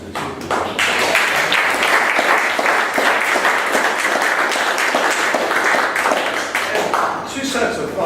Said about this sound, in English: let's give another round of applause to the two people